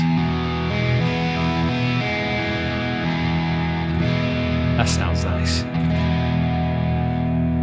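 An Alabarlo "Creep" electric guitar with its pickups blended rings out with sustained, slightly distorted chords, and a person briefly speaks over it near the end.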